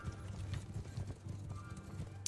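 A mounted archer's horse hooves clip-clop in Mount and Blade 2 Bannerlord, a quick, uneven rhythm of soft thuds at moderate distance over faint battlefield noise.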